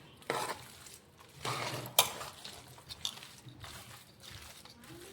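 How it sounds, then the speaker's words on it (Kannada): A spoon stirs and mixes curd rice with onion in a metal dish, giving repeated scraping and clinking strokes, close and moderately loud, with one sharp clink partway through. "ಇವಾಗ ಇದು ನೀಟಾಗಿ ಈಗ ಚಮಚನೇ ಕಲಸ್ಕೊಳ್ಕತ್ತೀನಿ ರೀ"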